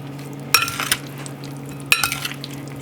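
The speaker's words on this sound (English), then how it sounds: "And we're gonna go ahead and mix it." A sausage and leek salad is being tossed in a bowl, heard as two short bursts of clattering, scraping mixing with a steady low hum between them.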